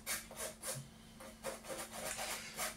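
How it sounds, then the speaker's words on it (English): All-purpose flour shaken through a sieve to break out lumps, a soft rhythmic rasping rub repeating about every third of a second, close and fairly quiet with a faint hum underneath. "I'm just going to sieve all these lumps out."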